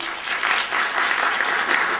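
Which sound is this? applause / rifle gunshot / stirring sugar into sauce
applause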